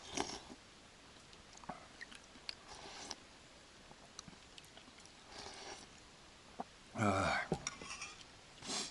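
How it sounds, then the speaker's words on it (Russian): Cutlery clinks against a dish while fish soup (ukha) is eaten outdoors in a forest, with scattered scrapes, taps and soft chewing, one louder clattering burst near the end, fairly quiet overall. "Ем с удовольствием."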